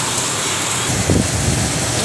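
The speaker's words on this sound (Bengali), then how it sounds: "দেখো কী পরিমাণে বৃষ্টি শুরু হয়েছে" Heavy rain falls with strong gusting wind, a steady close roar of downpour that thickens slightly midway, with no voices.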